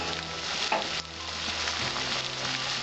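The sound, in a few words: raw chicken pieces added to hot pan, frying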